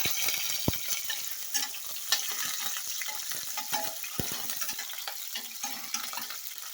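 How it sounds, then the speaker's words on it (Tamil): Onions fry in hot oil in a pan for a millet chicken biryani, giving a continuous crackling sizzle with sharp pops and stirring scrapes throughout. "இப்போ வெங்காயம் நல்லா வெந்துருச்சு."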